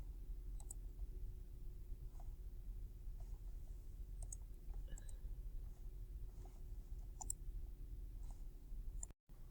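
Quiet, sparse computer mouse clicks while browsing used-car listings online, a handful of small isolated ticks spread irregularly over a steady low room hum, close and faint, with no talking.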